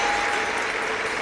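A crowd at a bouldering semi-final of a climbing world championship in Munich cheers and applauds loudly in a brief, dense burst.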